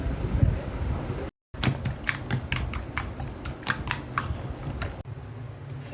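Two eggs with chopped onion and green chili being beaten in a bowl, a fork or spoon clicking rapidly against the side in quick, steady strokes, close and alone with a brief pause partway.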